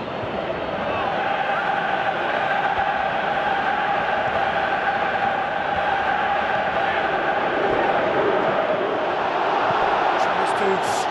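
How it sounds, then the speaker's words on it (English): A large stadium crowd in PES 2018 football sets up a steady, loud roar and chant that swells slightly, with a commentator's voice over it. "Crowd calling for him to shoot."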